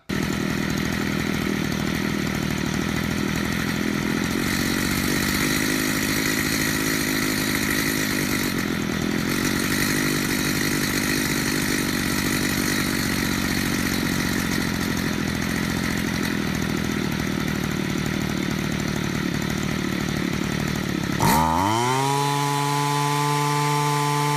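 A gas string trimmer engine runs loud and steady at high revs after carburetor tuning, a constant buzzing whine, then near the end the pitch drops sharply as it settles into a lower idle.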